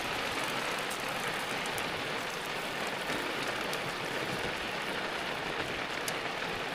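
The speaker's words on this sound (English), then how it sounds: "Pretty rainy." Steady rain patters outside a tent beside the water, a dense, even hiss of drops with faint sharper taps now and then, continuous and close throughout with no one talking.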